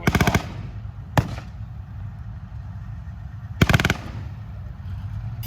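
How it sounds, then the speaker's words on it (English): Bursts of gunfire at a Battle of Aquino reenactment staged by the Canadian Tank Museum, with a loud volley at the start, a single sharp crack, and another rapid burst later over a steady background rumble. "We are pinned down on the airfield and taking heavy fire."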